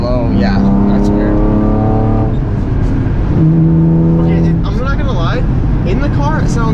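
A V6 Camaro with a manual transmission revs from inside the cabin, a loud, rising and falling engine note with gear changes, while people talk over it throughout.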